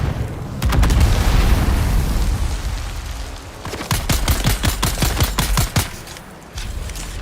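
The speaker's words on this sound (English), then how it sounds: "Oh, I hear the grenade." Explosions and gunfire in a video game set on Arrakis: heavy booming blasts at the start, then rapid bursts of close automatic fire crackling over the rumble, loud and dense, with no talk.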